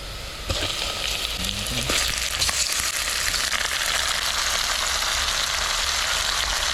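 Garlic, onion and ginger hit hot oil in a pan with a sudden loud sizzle that holds steady, with a few scraping stirs early on.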